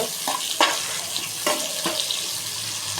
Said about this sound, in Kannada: ಈರುಳ್ಳಿ ಹಸಿಮೆಣಸಿನ್ಕಾಯಿ ಕರ್ಬೇವಿನ ಸೊಪ್ಪು ಹಾಕೋಣ ಇದು ಸ್ವಲ್ಪ ಫ್ರೈ ಆಗಲಿ